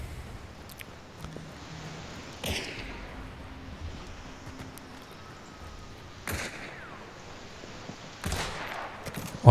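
Gunfire in the Hunt Showdown game, a few sharp distant shots scattered across a quiet ambient background, with a louder crack at the very end.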